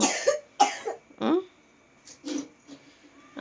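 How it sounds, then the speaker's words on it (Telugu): Several harsh coughs in quick bursts, close and loud, separated by short silences, with a few softer throaty coughs toward the end. "ఏమైంది మమ్మీ ఎలా దగ్గుతున్నావు?"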